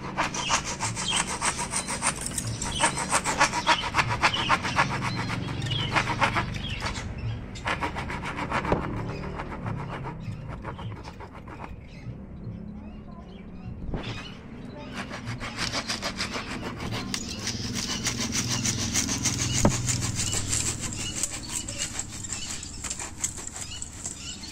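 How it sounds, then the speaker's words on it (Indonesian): A hand saw cuts through a hard tree branch being shaped into a bird perch, with rapid back-and-forth rasping strokes, close and continuous, and brief pauses between runs. "Kita rapihkan, kita potong lagi dengan gergaji."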